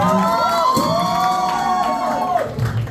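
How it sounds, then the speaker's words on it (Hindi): An audience at a studio's tenth-anniversary celebration cheers and whoops for a performer named Amit, a lively crowd roar with rising shouts under music. "एक बार अमित भाई के लिए जोरदार तालियां बजाएं"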